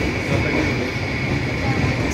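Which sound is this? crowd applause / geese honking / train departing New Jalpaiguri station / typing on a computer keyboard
train departing New Jalpaiguri station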